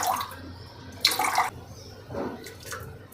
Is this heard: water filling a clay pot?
yes